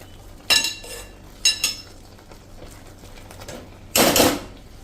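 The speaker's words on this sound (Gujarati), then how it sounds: "1 કપ પૌવાનો પાવડર, અને એને આપણે આ રીતે મિક્સ કરી અને મીડિયમ ફ્લેમ ઉપર એને ચલાવતા રહેશું" A spoon scraping and clinking in a pan as poha-powder muthiya mixture is stirred over a medium flame, three separate bursts of metallic scraping over a quiet background, close and moderately loud.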